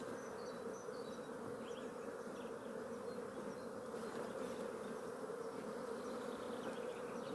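Honeybees swarm loudly at an opened multi-storey hive during an inspection, a dense continuous drone with no break, heard alone without speech.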